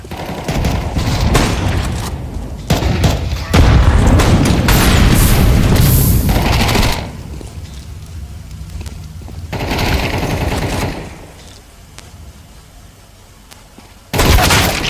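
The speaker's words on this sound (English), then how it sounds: "Throwing a grenade." Gunfire and explosive booms from a Counter-Strike match, loud and dense in the first half with a big blast around four seconds, fading to quieter game ambience before another burst at the end.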